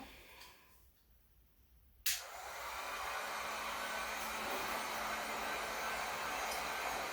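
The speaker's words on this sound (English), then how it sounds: "we want to keep kind of the basket and the hot air gun moving all the time so that we don't heat up one area too quickly" A hot air gun switches on with a sharp click and then roars steadily while heating a plastic fruit basket, a loud continuous blowing hiss after a brief quieter start.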